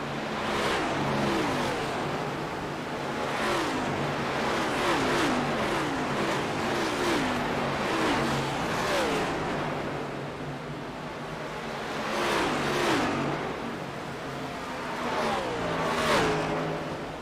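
Race car engines in a simulated NASCAR-style Cup Series race at Homestead-Miami Speedway drone and rev as cars pit and pass in repeated surging sweeps, a steady roar rising and falling every couple of seconds.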